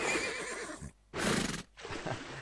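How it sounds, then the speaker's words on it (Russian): Horses neighing in a cartoon fish-eating video game, two loud whinnies one after another separated by a short silent gap, a third starting at the end. "Они как настоящие лошади орут."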